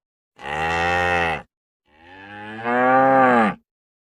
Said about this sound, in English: Ox.